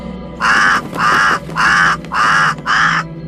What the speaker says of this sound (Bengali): কাকটা এত চিৎকার করছে কেন?